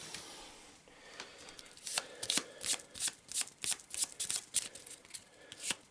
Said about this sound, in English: let's draw that loot card